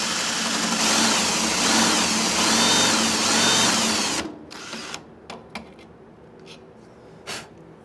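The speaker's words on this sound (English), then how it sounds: "drill bit in there to drill some pilot holes" Power drill boring pilot holes in a metal bandsaw part, a steady loud whine for about four seconds, then stopping with a few short clicks and taps of handling noise.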